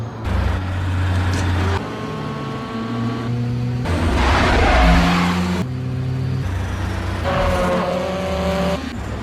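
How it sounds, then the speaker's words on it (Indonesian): Honda Civic cars race during a movie chase scene, engines revving and droning loudly with shifting pitch under a dense, continuous mix of music and effects. "Mia dan Brian pun akhirnya bergegas mengejar Dom dan kelompoknya yang sudah bertukar mobil menjadi 3 buah Honda Civic."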